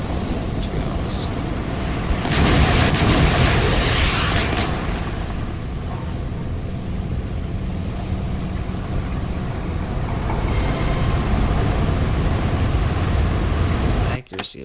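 Naval guns fire and shells burst in a warship battle game, with one loud rumbling blast early on and lighter booms later over steady sea ambience. Someone talks throughout.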